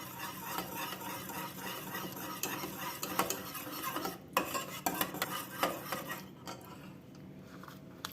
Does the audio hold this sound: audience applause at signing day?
no